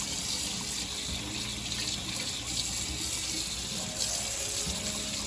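Pork for a Puerto Rican pernil roast being washed under a running kitchen tap, a steady hiss of water splashing into the sink throughout with no talking.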